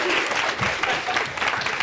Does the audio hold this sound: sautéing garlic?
no